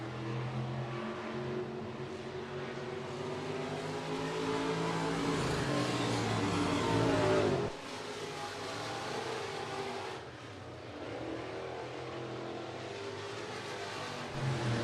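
Stock cars racing around a dirt raceway in a heat race, a pack of engines roaring and revving at a distance as they go through the turns, swelling and fading with a sharp drop midway, without talk.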